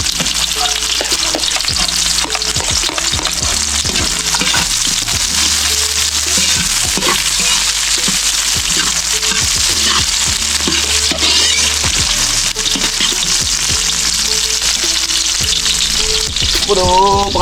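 Onions fry in a pan for a curry with a loud, steady sizzle, broken by scraping stir strokes throughout and no talking.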